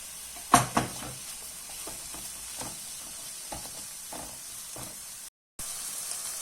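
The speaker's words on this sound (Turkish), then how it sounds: "Tavukları güzelce kavuracağım." Chicken pieces sizzle and fry steadily as they are sautéed in a pot, with a few sharp clinks of a utensil against metal near the start.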